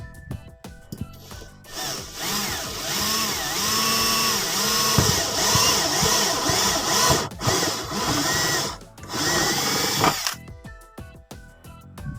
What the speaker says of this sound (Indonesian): Menggunakan mata bor pagoda ya yang berukuran 12 atau 13 mili ya